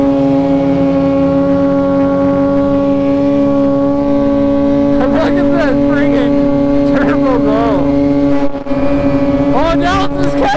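Polaris snowmobile engines droning steadily on ice, a loud sustained tone with rising whine bursts partway through as the machines race, with voices over the noise.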